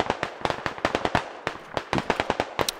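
Rapid bursts of MG3 machine gun fire in the Squad Ops shooter game, sharp crackling shots in quick uneven volleys, fairly close and loud with no talk over it.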